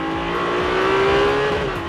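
A Ferrari 296 GTB sports car engine revs under acceleration, a steady loud tone climbing slightly in pitch over two seconds, heard close and continuous with no speech.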